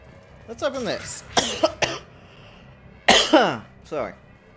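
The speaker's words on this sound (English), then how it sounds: "Sorry. Coughing my tits up." Several harsh, close coughs come in two clusters during a Mass Effect Legendary Edition play session, each burst of two or three coughs loud and abrupt, with quiet gaps between.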